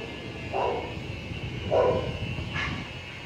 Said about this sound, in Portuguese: agora vai começar a cachorro latir